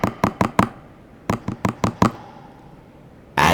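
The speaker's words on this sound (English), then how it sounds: "as of someone gently rapping at my chamber door" Gentle knocking on a chamber door in two quick sets of about four and five raps, close and crisp, separated by a short pause, then a sudden louder burst at the end; no one speaks.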